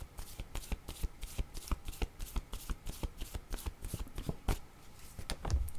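Tarot cards are shuffled by hand in a steady stream of quick papery riffles and snaps, close up and continuous for several seconds, with no talking.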